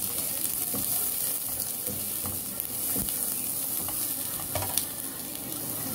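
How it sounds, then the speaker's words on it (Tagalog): Onion and pork frying in a pan for ginataang langka, a steady loud sizzle with occasional stirring scrapes, close up and without talk. "Lagay na rin natin guys yung sibuyas. Lagay na natin kasama ang pork."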